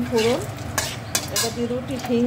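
Tempering for lentils with bottle gourd sizzles in hot oil as asafoetida goes in, with steady frying hiss, a spoon stirring and scraping against the pan, and brief metallic clinks throughout.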